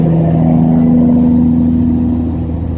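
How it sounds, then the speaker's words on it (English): Loud, steady engine rumble of a truck passing close by, a constant low drone with some clatter, gradually easing toward the end. "Why was that truck so loud?"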